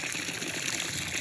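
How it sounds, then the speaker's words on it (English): Water pours and trickles into backyard playground sprinklers, a short, steady close-up rush of liquid with no talking. "I have this infatuation of filling the sprinklers up with water."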